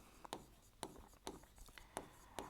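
A pen writing a short sentence by hand during a grammar lesson, giving quiet scratchy strokes in five or six distinct bursts over faint room noise.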